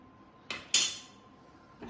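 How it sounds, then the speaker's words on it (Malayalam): A metal spoon knocks twice against a pot of chicken curry while mixing, two sharp close clinks followed by a quieter third scrape, with no talking. "നല്ല പോലെ ഒന്ന് മിക്സ് ചെയ്യാം"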